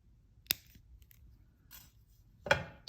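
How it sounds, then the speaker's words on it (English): Wire cutters snipping thin jewelry wire while making a connector link: a sharp click near the start and a louder, crisper snip near the end, close and isolated in a quiet room. "And cut your wire."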